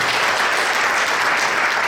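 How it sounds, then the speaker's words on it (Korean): An audience at a seminary celebration gathering applauds a former board chairman, a steady, even wash of many hands clapping without pause. "전 이사장님 고시영 목사 박수 부탁드립니다"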